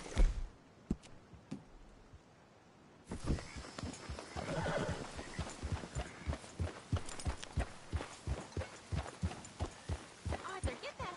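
Horse hooves clip-clopping at a steady walking rhythm in the Red Dead Redemption 2 video game, close and continuous after a brief quieter start with a sharp knock.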